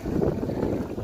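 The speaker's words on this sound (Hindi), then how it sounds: "हवा चल रही है तेज़" Strong wind blowing outdoors, a loud, continuous low rumbling buffet with gusty fluctuations, close to the microphone and with no voices.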